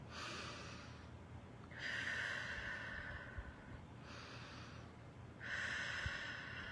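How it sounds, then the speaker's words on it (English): Slow, deliberate breathing during a grounding exercise: two or three long inhale-exhale cycles, close and soft, with airy breath noise and no talking. "you do some breathing"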